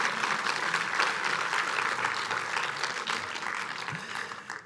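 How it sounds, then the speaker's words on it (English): Steady applause from a crowd, sustained clapping at moderate volume that tapers slightly toward the end. "Another applause."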